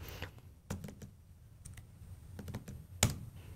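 Sparse keyboard taps and clicks sound close and quiet on a computer keyboard while saving code, with one sharper keystroke near the end.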